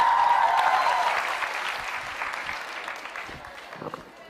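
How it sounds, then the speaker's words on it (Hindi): Audience at a Dev Anand quiz show bursts into applause for a contestant, clapping loudly at first and then tapering off over a few seconds. "यस यस, तालियां जोरों से बजाइए दीक्षा के लिए।"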